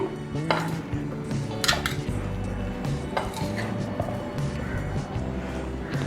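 Chana chaat with chickpeas and potatoes being mixed in a bowl, a run of close clinks, scrapes and knocks of a spoon against the dish repeating unevenly across several seconds, with no clear voice.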